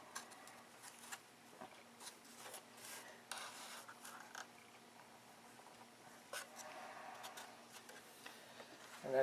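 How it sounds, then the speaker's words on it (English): Quiet, intermittent scratchy rasping of sandpaper worked along the bottom of a balsa model airplane airfoil, in short uneven strokes with brief pauses, close and faint. "Now instead of changing the airfoil shape because it's too tall, we're sanding it off the bottom"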